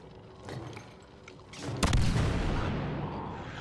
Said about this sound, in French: Mais c'est quoi l'explosion là?